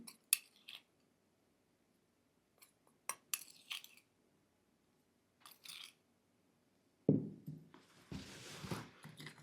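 A spoon clinks against a cup while powder is mixed into milk, heard as sparse, faint metallic taps and scrapes, followed by a louder burst of pouring and swirling liquid near the end, with no talking.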